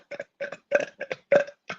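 A person burps on demand, forcing out six short, punchy belches in quick, fairly even succession, close and loud, with silence between them and no speech.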